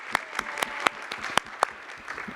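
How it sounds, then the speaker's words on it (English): An audience at a CannaGather New York gathering gives a round of applause: a few distinct, sparse hand claps in an irregular rhythm, fairly quiet and without voices. "Round of applause"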